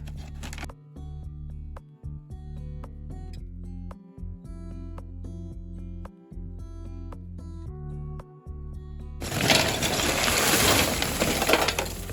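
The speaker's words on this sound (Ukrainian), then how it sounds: "Так, розриваємо пакет." A bag of barbecue charcoal is torn open outdoors in a yard, a short burst of rough crackling and ripping near the end after a stretch of steady background tones.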